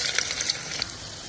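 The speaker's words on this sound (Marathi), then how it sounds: "मुगा डाळी भाजून घेता" Moong dal roasting in a hot pan gives a steady, soft sizzle and crackle with a few small pops, close by and continuous, with no voices over it.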